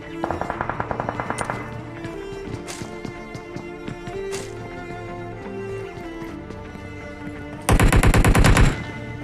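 Rapid bursts of automatic gunfire in a mobile shooting game, one short volley at the start and a louder sustained burst near the end, over a background of game music and ambient effects.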